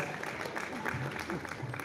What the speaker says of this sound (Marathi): आपण टाळ्या वाजवत राहूया